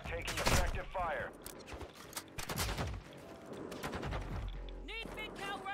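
Video game gunfire in a squad combat match: repeated sharp rifle bursts and rapid single shots, close and loud, with radio-style voice chatter and electronic beeps mixed in.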